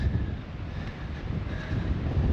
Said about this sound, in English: I'm up on the hill, so I'm getting the full gusts